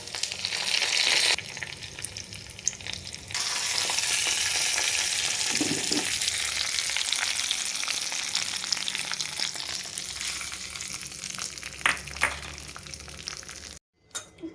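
Curry leaves tempering in hot ghee with pepper and cumin for tomato wheat rava kichidi, a steady close sizzle and frying crackle throughout with occasional stirring, then a brief pause near the end.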